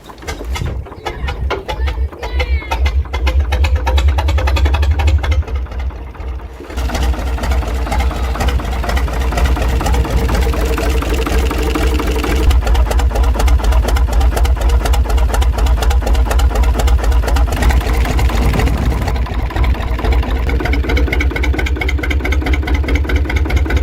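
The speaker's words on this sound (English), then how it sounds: "The 1940 Kromhout Gardner 3LS, a rare Dutch diesel, start up on a chilly January day after years in storage." A rare 1940 Kromhout Gardner 3LS Dutch diesel rated at 50 horsepower, long stored, starting on a chilly January day, then settling into a loud, steady, close chugging run with rapid even firing throughout.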